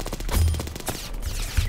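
Rapid gunfire in the Roblox shooter Aimblox, a quick burst of sharp close shots with a few heavier thumps, loud throughout the short moment.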